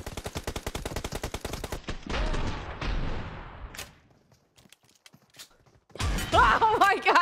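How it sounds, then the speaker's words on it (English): Video game shotgun fire: rapid bursts of loud, sharp blasts in quick succession, then a sustained rumbling barrage, a lull with scattered distant pops, and another heavy burst at the end. "can he not hear all the other shotgun sounds?"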